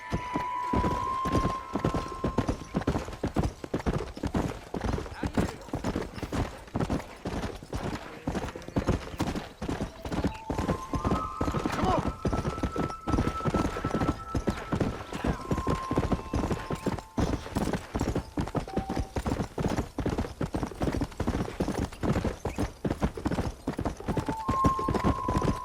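Horse hooves clip-clop steadily on the ground during a ride in Red Dead Redemption, a long run of close, rhythmic hoofbeats with occasional tonal whinny-like sounds above them.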